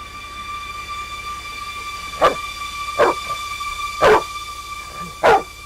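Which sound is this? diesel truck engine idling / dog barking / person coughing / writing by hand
dog barking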